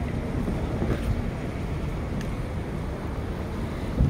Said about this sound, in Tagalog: Wow, ang ganda ng hangin.